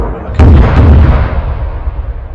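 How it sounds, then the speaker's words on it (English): A single heavy video game artillery blast booms loudly up close, followed by a deep rumbling roll that slowly fades away. "There's the explosion."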